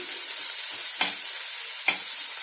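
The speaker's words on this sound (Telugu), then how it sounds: "అవి సైడ్కి అనేసి నూనెలో వేస్తే ఇవి వెల్లుల్లి కూడా చక్కగా వేగుతాయి" Crushed garlic fries in hot oil with a continuous close sizzle, punctuated by two sharp stirring clinks about a second apart; no one speaks.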